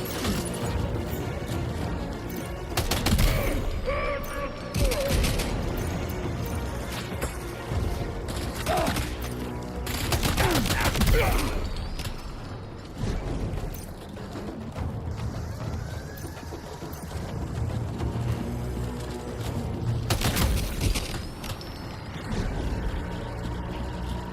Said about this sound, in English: we got a machine gun